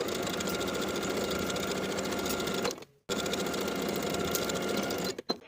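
A sewing machine runs fast and loud stitching the sleeve seam of a plaid wool jacket, briefly stopping near the middle before restarting, ending with a few small clicks.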